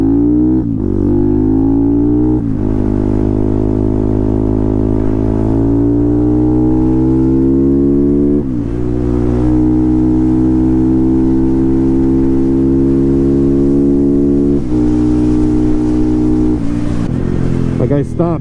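Honda Grom fitted with a swapped CBR engine, loud and close, its steady engine note easing down as the throttle closes, with a few brief shifts in pitch along the way.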